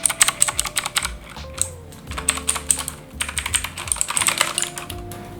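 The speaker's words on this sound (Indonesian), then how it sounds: "Dari suaranya aja udah kelihatan kalau ini Blue Switch." Rapid clicky typing on a Koodo Cavalier mechanical keyboard with Outemu Blue switches, close and crisp, with dense bursts of sharp keystrokes and short pauses, no voices.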